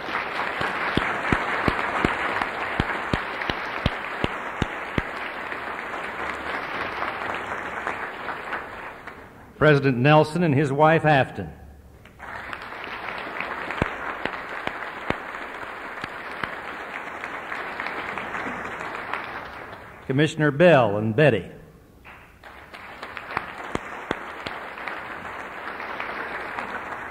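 A banquet audience at a 1978 Board of Regents recognition dinner breaks into long bursts of steady applause, and a man introduces guests over a microphone in the short gaps between them.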